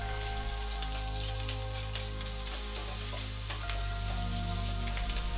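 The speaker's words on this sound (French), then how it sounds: "Ajouter la viande hachée et cuire 3 à 4 minutes." Minced meat and onion sizzle steadily in oil in a sauté pan, a loud, continuous close crackle with light stirring throughout.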